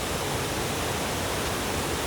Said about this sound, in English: we are right on top of the Tadlow waterfall